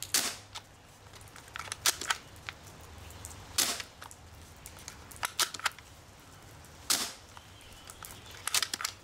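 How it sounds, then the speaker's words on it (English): A homemade pre-charged air rifle firing small 6mm steel balls gives a series of sharp, short snapping shots at irregular intervals, some in quick pairs, over quiet background. "Just going to show you how much air is coming out the front of the barrel when you take the shots"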